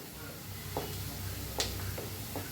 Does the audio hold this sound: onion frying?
yes